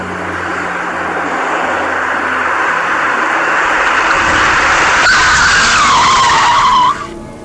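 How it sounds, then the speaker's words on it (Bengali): A cartoon hearse brakes hard and skids, a loud sustained roar of tire noise that builds and ends in a rising screech before cutting off abruptly. "এত জোরে কেউ ব্রেক করে?"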